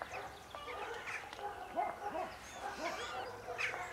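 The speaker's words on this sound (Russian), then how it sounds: "Собаки." Several dogs barking in a rapid, irregular volley of short barks and yips, moderately close, with a faint background murmur.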